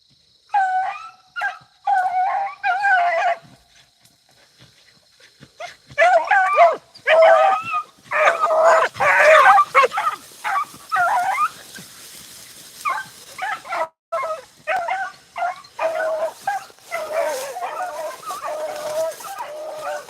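Pack of beagle hounds baying and yelping in bursts while running a half-grown rabbit on a cool morning, voices rising and falling at moderate distance with brief pauses between volleys.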